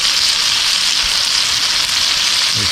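Filet mignon steak searing in a hot pan, giving a steady, loud, close sizzle and crackle that holds evenly throughout with no voices.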